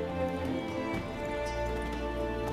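A horse's hooves clip-clop steadily in The Witcher 3 video game, set under a dense, continuous bed of music and ambience that partly masks the footfalls.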